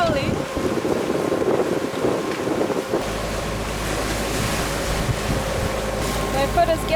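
Strong gusting wind of around 80 knots roaring over a sailing boat in a rocky channel, a continuous loud rush with sea noise and heavy microphone buffeting, a voice briefly heard.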